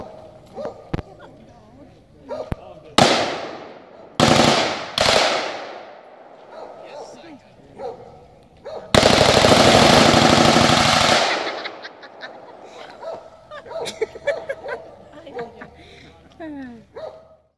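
An FN rifle fitted with a Nightforce NSX scope fires at a target during a SWAT and K9 demonstration, cracking loud in several sharp separate shots and one longer burst, with a dog barking and people talking nearby.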